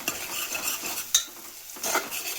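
Pigeon peas tipped into onions frying in a pan, then stirred, giving a soft steady sizzle with scraping spoon strokes and a sharp clink near the middle; close and moderate, no talking.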